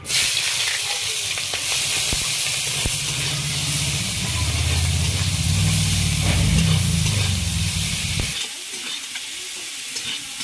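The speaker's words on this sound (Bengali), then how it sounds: "পেঁয়াজটা আমার ভাজা হয়ে গেছে" Steady, dense sizzling of chopped onion and chili frying in hot oil for a crab curry, close up, with occasional scraping stirs, continuing for about eight seconds before dropping to a quieter hiss.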